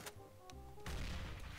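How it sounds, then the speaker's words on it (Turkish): A bomb in CS:GO jailbreak mode goes off after a few quiet clicks, bursting into a loud rumbling blast that holds steady to the end. "Bomba patladığı gibi başlar."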